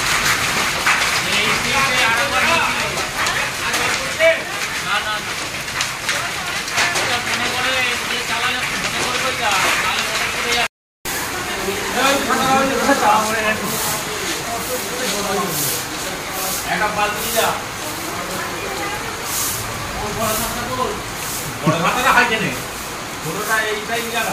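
Hail and heavy rain pour down in Bankura, West Bengal, a dense steady hiss and patter with scattered harder hits that runs without letup, broken by one brief gap, while people talk over it.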